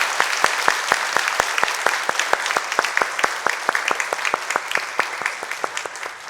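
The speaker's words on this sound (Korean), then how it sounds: "하나님께 영광의 박수 올려드리겠습니다." A church congregation claps in rhythmic unison during a Sunday worship service, a steady fast beat of loud, sharp claps that carries on for several seconds and thins slightly toward the end.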